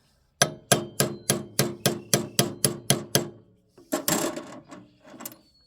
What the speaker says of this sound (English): Okay, so I can drive that out a fair ways.